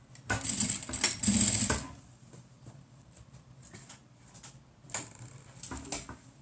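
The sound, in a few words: sewing machine stitching cotton mask rectangles, backstitching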